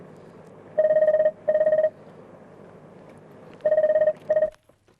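A telephone rings in two bursts of paired trilling tones during a Marathi stage comedy, loud and close with a quiet pause between the pairs and no talk over it.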